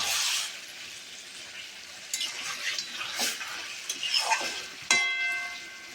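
Chicken curry with spices is stirred in a pan, with a soft sizzle underneath and several scraping, clinking strokes of a utensil against the metal, the last one sharp and ringing.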